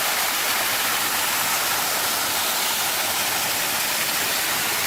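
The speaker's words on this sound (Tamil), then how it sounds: "அழகா குதிச்சு ஓடுறான் இந்த அருவி கீழே." Waterfall cascading down rocks in Vagamon, a steady, loud, dense roar of rushing water filling the whole scene without a break.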